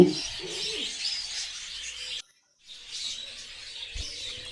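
A pair of rainbow budgerigars in a breeding cage, faint soft chirps and chatter in two short stretches broken by a brief silence, with a low thump near the end.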